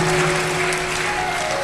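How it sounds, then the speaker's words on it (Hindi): Audience applause greets the arrival of performers portraying Shiva and Parvati at a Shiv Mahapuran katha in Deoghar, Jharkhand; steady dense clapping fills the whole stretch over a sustained musical drone. "जोरदार ताली बजाकर स्वागत करें"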